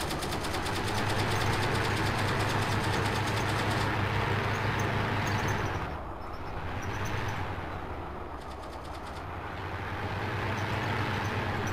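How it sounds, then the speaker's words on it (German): An M41 Walker Bulldog tank engine rumbles in Battlefield 1942's Eve of Destruction, a loud, steady, throbbing mechanical drone with grinding tread noise that dips briefly midway before swelling again. "Walker Bulldog. Nicht unbedingt meine erste Wahl für Panzergefechte gegen T-54."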